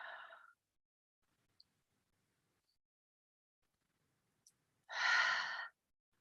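A slow, deep inhaled breath, close and soft, follows a brief breathy sound at the start and a long quiet pause in a calm, hushed setting.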